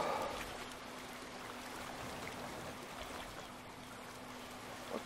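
Water flows steadily in The Forest video game, a soft, continuous rushing wash with a faint low hum underneath, fairly quiet and unbroken throughout.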